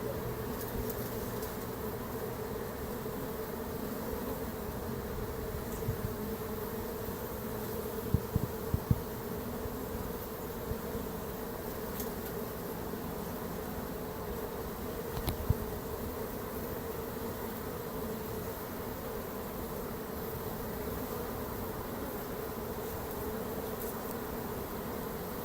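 A honeybee swarm hums steadily while fanning at a hive box outdoors, a soft, continuous drone of many wings with no talk.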